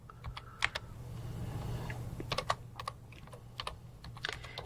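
Rapid keystrokes on a computer keyboard come in short bursts of clicks, close and clear over a low steady hum, with brief pauses between runs of typing.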